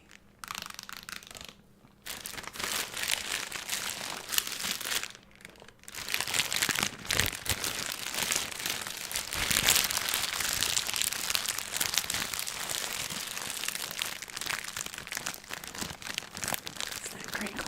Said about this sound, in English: It's that crinkle back sound.